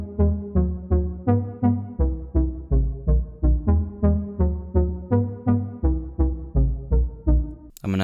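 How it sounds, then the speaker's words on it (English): Funky synth chords from a saw oscillator with chorus, distortion and reverb in a pop or chill house idea: a steady stream of short, punchy stabbed chords in a bouncy rhythm, loud and alone, ending abruptly. "I'm going to start off with some funky synths"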